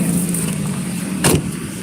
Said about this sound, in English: You'll have to leave the car running though.